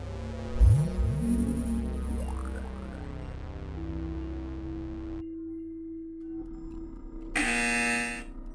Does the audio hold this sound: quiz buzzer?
yes